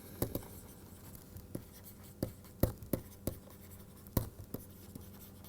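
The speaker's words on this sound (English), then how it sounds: "let us go ahead and write these points down" Notes are written during a neural networks lecture, with sharp, quiet taps and short scratches at an irregular pace and nothing else over a low room hum.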